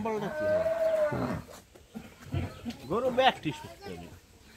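Cattle at Sahapur market in Khulna, Bangladesh, lowing in a long drawn moo near the start, with a few shorter animal calls later amid people talking close by.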